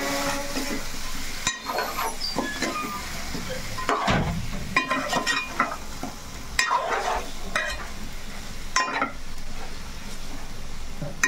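Cut pieces, mango among them, are stirred through a sizzling pan of fish curry, with a spoon scraping in steady strokes over constant frying hiss and occasional clinks against the pan.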